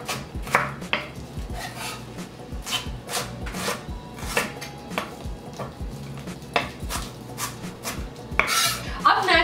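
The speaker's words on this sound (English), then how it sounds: "we're just gonna give that a rough chop as well" A knife roughly chops unpeeled ginger on a cutting board in a kitchen, a series of sharp, close, uneven chops with short pauses between them.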